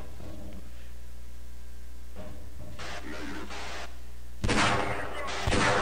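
Gunfire at a Marine in the Half-Life game rings out in a few short, sharp bursts over a steady electrical hum, with a louder double burst near the end.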